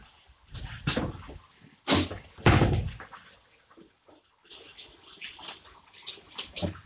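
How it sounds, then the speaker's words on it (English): Hands are washed under a running tap in a kitchen while Liberian pepper sauce cooks, giving irregular bursts of splashing water mixed with some clatter and quieter gaps. "Wash my hands."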